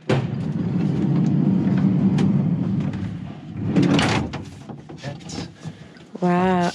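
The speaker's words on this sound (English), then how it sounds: "I actually need to slide it like this before. Close that." A one-piece wooden sliding door on a Promaster camper van slides and shuts up close, a rolling scrape followed by a firm closing thud, with people talking around it.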